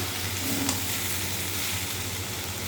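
Sugar being stirred into boiled chickpeas cooking in a pan, with a continuous soft sizzle and light stirring scrapes over a couple of seconds and no talking.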